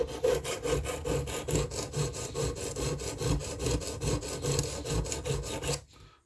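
A file rasps along the blade bevel of a Leatherman Rebar multi-tool in steady sweeping strokes, about four per second, close and fairly loud, then stops abruptly.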